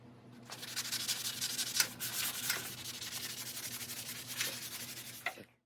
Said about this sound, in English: I'm going to start knocking down the rust with the 220 grit sanding block